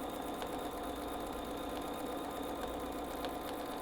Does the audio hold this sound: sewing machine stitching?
yes